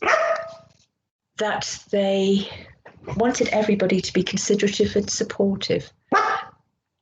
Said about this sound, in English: Excuse my dog who wants to join in as well.